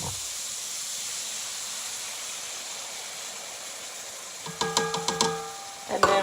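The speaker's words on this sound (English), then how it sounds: "I've got our soy sauce measured out, ready to go into our stir fry back here." Soy sauce hits a hot stir fry with a loud sizzle. A steady hiss runs through the first part, then a burst of sharp crackling pops breaks out near the end.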